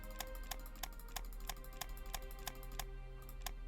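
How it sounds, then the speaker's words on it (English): Rapid, fairly regular clicks from a computer mouse or keyboard during a session of Hearts of Iron 3, fairly quiet and close, running steadily over a low background hum. "Sorry for the clicking."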